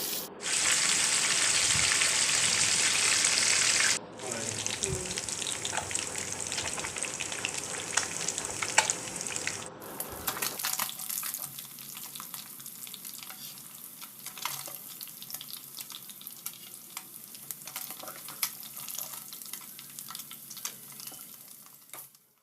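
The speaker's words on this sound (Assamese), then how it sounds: "এতিয়া মাছখিনি মই গুটি হোপা এনেদৰে ফ্ৰাই কৰি লম" Rohu fish pieces fry in refined oil, a loud close sizzle that cuts out briefly and then continues as a softer, steady crackle with occasional spatters.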